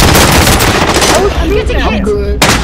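Rapid automatic gunfire in the video game Call of Duty: Modern Warfare, loud sustained bursts that cut off abruptly near the end, with faint voices underneath.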